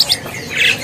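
A caged songbird at a bird-market kiosk where mossy prinias are sold gives a brief, loud, close squawk with a short harsh chirp, lasting under a second.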